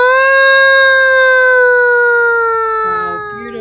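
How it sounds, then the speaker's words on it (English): A town siren wails with a steady sustained tone and stacked harmonics, loud and close, holding for about three seconds before fading out as other sounds break in. "you hear a siren go off in the town."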